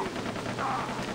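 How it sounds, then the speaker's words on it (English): Far Cry 3 gunfire crackles in a dense, steady wash of distant shots with no distinct individual bursts, running through the whole short moment. "I hear shooting. Do you guys hear shooting?"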